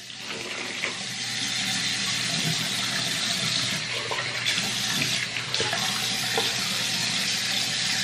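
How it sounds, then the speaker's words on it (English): Tap water runs steadily into a sink while a mouth is rinsed after tooth brushing. The continuous splashing rush stays close and fairly loud throughout, with no talking. "And then rinse."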